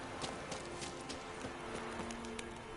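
Horse hooves clip-clopping in the video game The Witcher 3, a faint steady rhythm of light hoof strikes over a constant background hum.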